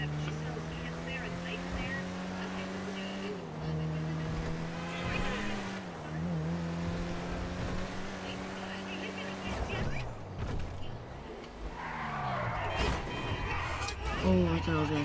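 A car called the LG is driven in GTA, its engine drone running as a steady tone that shifts pitch as the car speeds up and slows, with speech over much of it.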